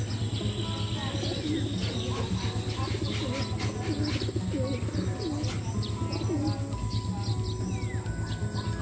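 Pigeons coo repeatedly in a loft, soft throaty calls overlapping from several birds amid light chirps and a constant low background hum, with a faint voice briefly audible.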